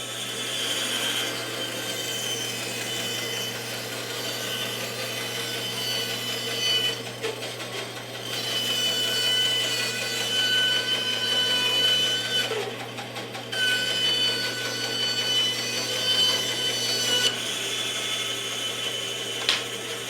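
Wooden logs are sawn for snowshoe frames with a powered saw, a steady mid-loud motor drone underneath and brighter cutting passages that swell and break off several times as the blade works through the wood.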